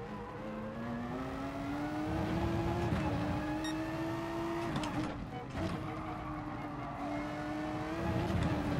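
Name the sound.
Mercedes race car driving, from video game GT Sport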